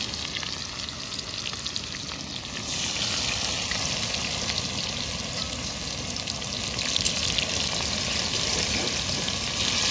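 Whole garam masala and onions frying in oil at an outdoor night picnic cookout in the woods, a steady broadband hiss that swells louder partway through and holds, with no talking.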